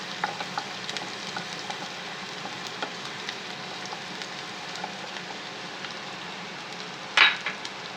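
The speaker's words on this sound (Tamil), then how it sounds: "இது கொஞ்சம் நேரம் எண்ணெயில் இப்படி நல்லா வதக்கிக்கோங்க. வெங்காயம் நல்லா கொஞ்சம் நேரம் மாறட்டும்" Onions sautéing in hot oil for a ridge gourd and egg stir-fry, a steady close sizzle with faint scattered crackles and one sharp utensil scrape near the end.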